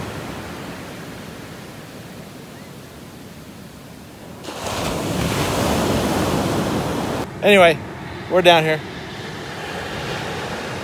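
Ocean surf pounding on a sandy beach, waves rising close offshore and crashing almost at once; a steady broad roar swells louder midway, with a person briefly speaking and wind buffeting the microphone.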